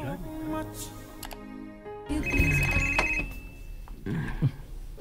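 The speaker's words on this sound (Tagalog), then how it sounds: "May nanawag siyang cellphone." A cellphone rings beside someone in a Bisaya drama scene, a steady repeating electronic ring tone with a high sustained tone in the middle, set against background music and room noise.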